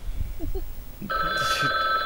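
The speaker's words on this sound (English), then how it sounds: "That phone, that phone ringing scared the hell out of me." A telephone breaks into a loud electronic ring partway through, a sustained, bright, warbling tone. Quiet low voices and murmurs come before it.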